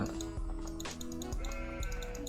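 Sheep bleat in Farming Simulator 17, with several loud, wavering cries overlapping one another in close succession, continuous and clear with no talk over them.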